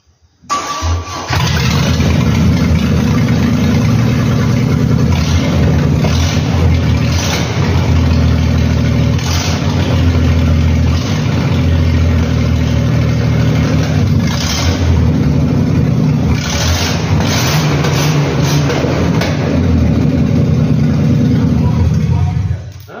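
A V6 Vortec engine in a Ford F75 starts and settles into a steady, loud idle that runs unbroken for over twenty seconds.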